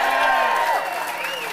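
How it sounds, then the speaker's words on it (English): A crowd at a political rally in Crawford cheers and applauds, a dense wash of clapping and shouting whoops that starts loud and eases slightly toward the end. "Let's hear a cheer for legal immigration."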